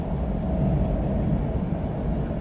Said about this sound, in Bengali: উপরের বোর্ডে দেখাচ্ছে ট্রেন এই মুহূর্তে 287 কিলোমিটার পার আওয়ার স্পিডে চলছে